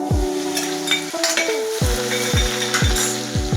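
Garlic sizzles in hot oil at the start of cooking Rajwadi khichdi, a steady frying hiss under repeated sharp metallic clinks of a spoon against the pan, close and fairly loud.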